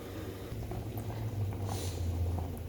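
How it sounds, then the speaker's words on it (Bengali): Ilish fish curry with green banana simmering in a pot as it comes to a boil, a steady low bubbling with soft liquid blips, close and fairly quiet with no voices. "তরকারিটা বলক উঠে গেছে গে, এখন আমি দিয়ে দেবো মাছগুলো।"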